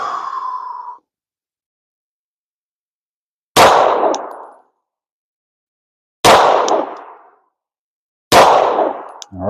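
Three rifle shots fired one at a time at a paper target in a slow, deliberate accuracy drill, each a sharp loud crack with a brief decaying tail, spaced roughly two to three seconds apart after a short tone at the start.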